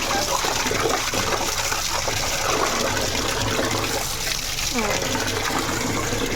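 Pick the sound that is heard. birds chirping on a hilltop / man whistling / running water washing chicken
running water washing chicken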